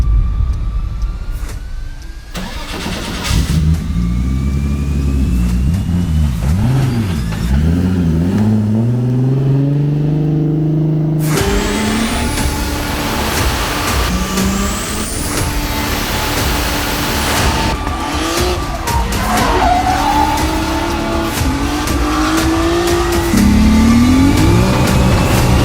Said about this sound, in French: comme vous allez l'entendre, la voiture tourne.